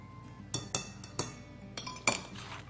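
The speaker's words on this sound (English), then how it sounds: "Now I'm just going to stir this all together" Clinks of a utensil against a bowl as zucchini mixture is stirred into breadcrumbs, several sharp taps in an irregular rhythm, close and fairly quiet.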